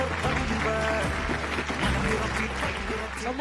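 Loud, sustained applause from a studio audience on a Malayalam television game show, with clapping filling the whole stretch and a voice talking over it.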